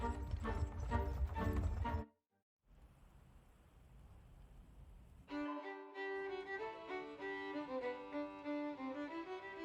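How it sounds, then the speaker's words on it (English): Horses' hooves clip-clop in the video game Card Shark as the horses quicken their pace toward a stable, heard in short sections broken by a gap and then under tonal game music. "The horses have quickened their pace."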